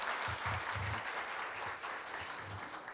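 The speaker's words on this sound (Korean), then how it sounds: "다시 한번 큰 박수" Applause at a Korea University campus town event for young entrepreneurs, a steady dense clapping from a crowd heard at moderate level, with faint low thuds underneath.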